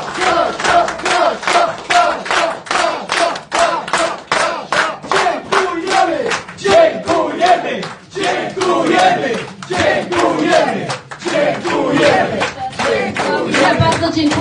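A crowd at a gathering in Poland cheers and chants loudly in rhythmic bursts, with claps and shouts running continuously around a welcome for Kasia Sokołowska, near and dense throughout.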